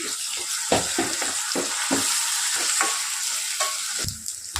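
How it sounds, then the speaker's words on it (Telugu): Ginger garlic paste frying with onions in a hot pan, a steady sizzle broken by regular scraping spatula strokes, close and fairly loud, with no voices. "ఇందులో అల్లం వెల్లుల్లి పేస్ట్ ఒక టేబుల్ స్పూన్ వరకు యాడ్ చేసుకొని పచ్చివాసన పోయేంత వరకు బాగా ఫ్రై చేసుకోవాలి."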